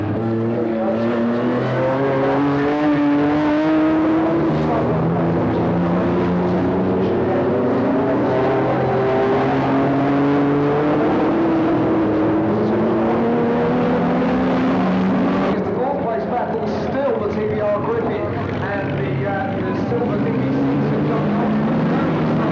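Several racing cars at a 1995 AMOC meeting at Thruxton circuit, engines rising and falling in pitch through the chicane, loud and continuous as they pass in close succession, with a commentator talking over them throughout.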